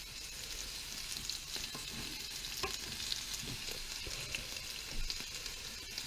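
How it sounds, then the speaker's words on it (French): Whole fish sizzling and crackling in hot oil as they go into the pan, a steady broadband fry with scattered pops and the occasional scrape of stirring, close and continuous with no talk. "Là, on voit que l'huile est à bonne température. Posez les poissons bien à plat."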